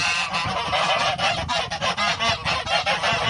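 A flock of white geese on a small farm honking loudly and continuously, overlapping calls close by with no talking.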